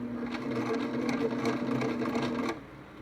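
A sewing machine runs steadily for a few seconds while stitching a seam along a fabric edge, producing a close, even mechanical hum with a rapid needle rhythm that stops abruptly near the end.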